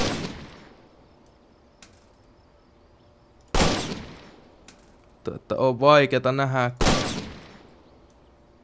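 Three loud, isolated rifle cracks in Finnish Army Simulator, each trailing off with a short echo and spaced a few seconds apart, with a voice heard talking between the last two shots.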